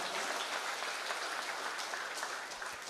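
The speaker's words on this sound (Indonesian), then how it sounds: "Boleh kita berikan tepuk tangan yang luar biasa" An audience at a legal risk outreach event for educators in Pasuruan Regency gives steady, continuous applause, a dense even wash of clapping heard from some distance and fairly faint, with no voices.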